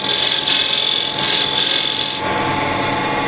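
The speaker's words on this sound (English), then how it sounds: "now with the square scraper I can make a flat flange here" A square scraper shapes a flat flange on a wooden box, making a loud, continuous rasping scrape with a slight change in tone partway through.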